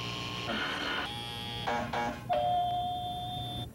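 A door buzzer sounds during a story reading, a clear sustained electronic tone lasting over a second after some softer background tones, with no talking.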